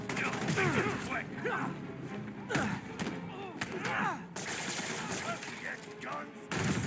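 Gunfire from enemy thugs in Spider-Man Remastered, during the Tombstone (Lonnie Lincoln) fight, with repeated sharp shots and bursts scattered through a busy combat mix, heard alongside shouted voices.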